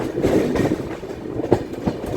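An Indian Railways superfast express, the Lokmanya Tilak–Patliputra train, runs through Bihta station without stopping, heard from inside the coach as a dense, loud rumble with rhythmic wheel clatter over rail joints.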